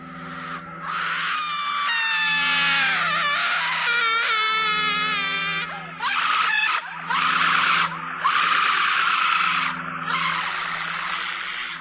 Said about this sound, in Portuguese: um grito assustador e horripilante de mulher que parecia estar sendo judiada e torturada